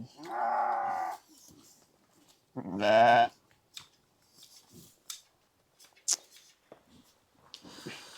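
A shepherd's flock of sheep and lambs, with a lamb suckling from a ewe, lets out two loud, close bleats a couple of seconds apart, followed by quieter rustling and faint farmyard sounds.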